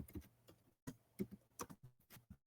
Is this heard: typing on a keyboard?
yes